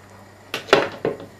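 A spoon scrapes and knocks against a pot while stirring a flour-thickened cream sauce for pork loin. Three distinct clattering strokes come close and clear after a quiet start.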